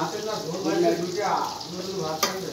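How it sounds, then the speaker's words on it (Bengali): Pangas fish frying in a home kitchen pan gives a steady close sizzle with a brief sharper crackle near the end, heard under a faint voice. "এই যে পাঙ্গাস মাছ নিয়ে আসছি আজকে, মাছ ভাজা করছি।"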